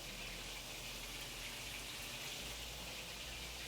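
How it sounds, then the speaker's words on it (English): Steady rain falls outside as a dense, even hiss with no breaks, a constant wash of sound at moderate level and no voices. "Rain falling outside."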